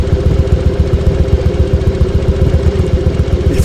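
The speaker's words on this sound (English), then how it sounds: "now I'm going to ride this 40-year-old bike home" A 40-year-old motorcycle's engine running close by, a loud, rhythmic low thumping pulse with mechanical clatter, steady and unbroken throughout.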